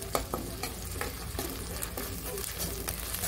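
Onion and tomato puree sautéing in a pan for a whole masoor lentil dish, a steady close sizzle with repeated scraping stirs of a spoon against the pan, no voices.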